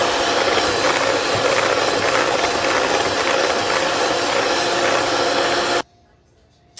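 Cake icing being mixed with Božkov rum for a Black Forest fake cake, likely by an electric mixer, giving a steady, loud whirring and rattling that runs without a break for about six seconds and then cuts off abruptly.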